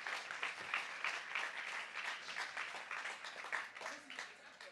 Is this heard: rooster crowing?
no